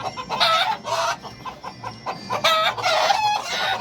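A white fighting cock crows loudly and close by, with several strained, raspy bursts in quick succession and some clucking between them.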